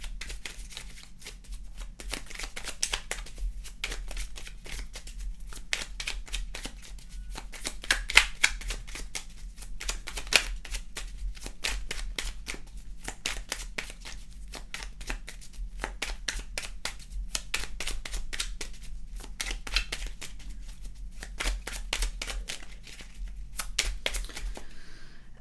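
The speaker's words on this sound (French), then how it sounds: "On va maintenant tirer là une carte de Merlin" Merlin oracle cards being shuffled by hand, a long continuous run of crisp riffling flutters and soft slaps, close and steady, with no talking.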